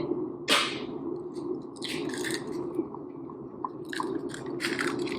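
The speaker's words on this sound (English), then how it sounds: "Crack 1 egg." An egg cracked during home cooking: a sharp crack near the start, followed by soft wet squishing and small taps, close and quiet over a low background hum.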